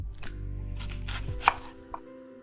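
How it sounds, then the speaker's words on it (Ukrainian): A knife slicing an onion into half rings on a cutting board, sparse crisp cuts and a couple of sharper taps against a low background hum, with no speech. "Нарізаємо цибулю півкільцями."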